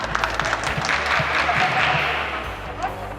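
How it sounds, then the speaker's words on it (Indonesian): Audience applause fills a seminar hall at a branding and export workshop for small businesses, a steady wash of clapping lasting a few seconds with voices mixed in. "Tepuk tangan untuk ibu semua."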